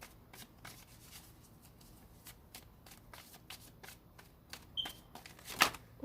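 Tarot cards being shuffled, a quiet run of soft riffling flicks and taps in uneven bursts close by, ending in a sharper flurry, with no talking.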